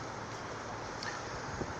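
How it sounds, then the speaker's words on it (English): Steady wind blows outdoors along the New River in Fort Lauderdale, a constant broad rushing noise buffeting the microphone with no breaks. "it's breezy out here, windy"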